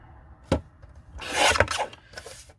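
Paper cut down on a craft trimmer station, heard as a close sharp snip followed by a longer rasping slide of the blade and a brief second pass, with no talking.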